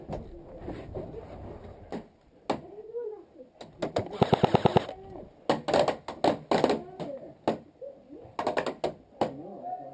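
Rapid machine gun bursts in an online shooter game ring out in short rattling volleys, one dense burst mid-clip and others scattered, with players talking over and between the shots.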